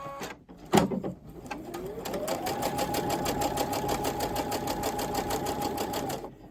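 Sewing machine stitching quilt squares with a quarter-inch guide foot, starting after a thump, then speeding up into a fast, even run of close stitching that continues steadily until it stops.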